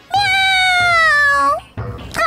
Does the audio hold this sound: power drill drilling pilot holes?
no